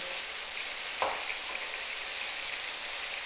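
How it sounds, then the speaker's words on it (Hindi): Marinated chicken masala wings sizzle steadily in a pan, a continuous bright hiss with one brief clack or stir near the start, no voices. "चिकन हमारा पक रहा है तो हमने एक साइड से पलटा लेने यूँ करके"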